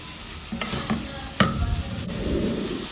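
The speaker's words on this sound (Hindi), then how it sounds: "अच्छे से इसको भुनाई करेंगे।" Masala of onion, tomato, coriander and turmeric frying in oil for bhindi do piyaza, with a low sizzle and a few sharp spatula knocks and scrapes against the pan, close up.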